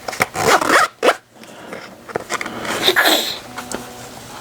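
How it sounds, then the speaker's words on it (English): A single zipper running all the way around a Lochby Quattro case is pulled closed in several short, scratchy bursts, close and clear, with brief pauses and light handling rustle between pulls. "it's just one whole zipper that goes all the way around the entire thing"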